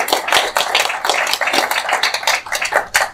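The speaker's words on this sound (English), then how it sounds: "Please give him a giant round of applause." Audience at an apartment-investing talk giving a round of applause for DJ Scruggs, a steady close patter of clapping hands with no voices.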